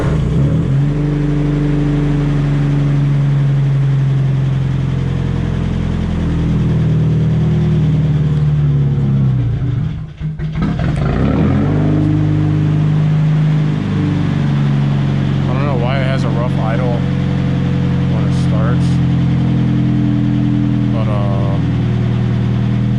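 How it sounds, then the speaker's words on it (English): A car engine at a steady idle while it warms up, a deep continuous rumble with a brief dip near the middle and a few faint squeaks and clicks later on. "I am going to start the car, let it warm up so it's like a calm idle"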